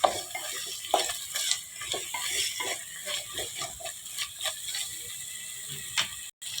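Spices and rock salt being stirred into mutton biryani in a pot, giving steady scraping and clicking strokes with a light frying hiss underneath, close and fairly soft, with no talking.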